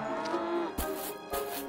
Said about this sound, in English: Look, we have cow and the calves here having food.